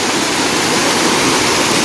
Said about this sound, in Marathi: कसला धबधबा आहे बघा इकडे